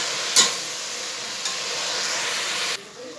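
Small spinach leaves sautéing with onions in a pan, a soft, steady sizzle with a sharp clatter of stirring at the start and another light knock midway before the sound drops away.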